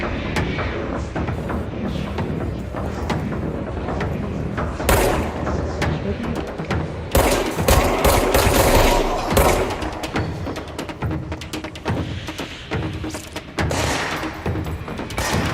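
Bursts of video game gunfire, dense volleys and thuds rolling through the whole stretch with loud peaks near the middle, and no talk over it.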